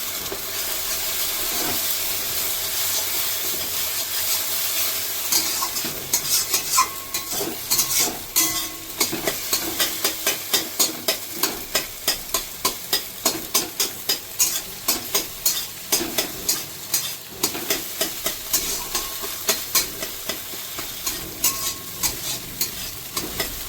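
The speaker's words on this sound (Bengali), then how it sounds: "ডিমটা আমার হয়ে গেছে ভাজা" Egg is fried in a wok and broken up for fried rice, giving a steady close sizzle with quick, regular scraping stirs that grow more rhythmic midway and continue to the end.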